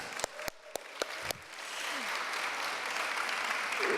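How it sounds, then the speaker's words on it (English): Audience in Belgrade clapping; a few sharp separate claps at first, then a swelling wash of steady applause that grows louder toward the end. "But you are clapping"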